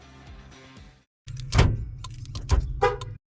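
Ford OBS truck with a plug-and-play keyless entry kit being tested: after a brief quiet, a loud nearby car horn sounds in a few short honks with mechanical thunks, alone without talk.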